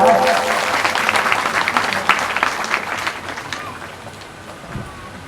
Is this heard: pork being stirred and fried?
no